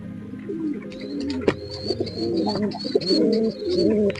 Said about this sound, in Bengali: এটা হচ্ছে আমাদের কালুন কবুতরের বাচ্চা